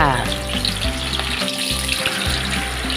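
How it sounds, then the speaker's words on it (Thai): Sun-dried snakeskin gourami fish frying in hot vegetable oil, a steady, fairly loud bubbling sizzle with crackles, heard up close without pause. "หลังจากน้ำมันพืชของเราเดือดดีแล้วนำปลาสละแดดเดียวของเราลงไปทอดเลยค่ะ"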